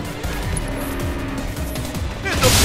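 A revving vehicle engine with the throttle opened in Final Fantasy VII Remake, a steady droning whine at close range that swells louder near the end, with tire-squeal-like tones and game effects layered around it.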